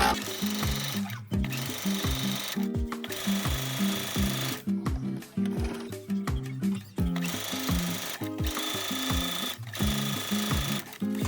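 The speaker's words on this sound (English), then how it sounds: "Now sew a top stitch along both long sides." Sewing machine running a top stitch along fabric, a steady loud mechanical whirring with rhythmic needle chatter in continuous bursts separated by brief stops, no voices.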